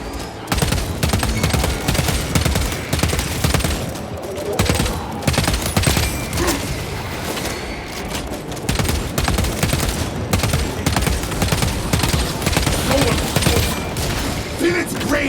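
Bolter gunfire in the Space Marine 2 video game, a Warhammer 40k shooter: loud, continuous bursts of rapid automatic fire with booming impacts over about fifteen seconds, broken by short lulls.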